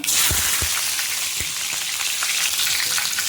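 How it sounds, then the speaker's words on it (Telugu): Chopped onions fry in hot oil for a gongura prawn curry, a loud, steady, close sizzle with a few soft stirring knocks near the start. "ఆనియన్స్ ఇలా ఎర్రగా వేగిపోవాలి, డీప్ బ్రౌన్ కలర్లో వేగిపోవాలి"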